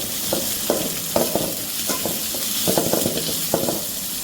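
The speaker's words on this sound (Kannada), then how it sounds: "ಎಣ್ಣೆ ಬಿಸಿಯಾದ ನಂತರ ಜೀರಿಗೆಯನ್ನು ಹಾಕಿ" Cumin seeds frying in hot oil for mutton pulav, a steady close sizzle with scattered sharp crackles and pops throughout, no voices.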